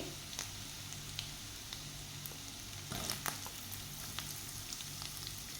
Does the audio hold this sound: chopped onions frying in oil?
yes